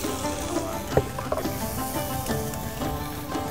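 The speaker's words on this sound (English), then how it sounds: "Add in the pan some oil and then we have to stir fry" Garlic stir-fries in hot oil in a pan, a dense continuous sizzle with occasional clanks and scrapes of a utensil, close and fairly loud, with no talk.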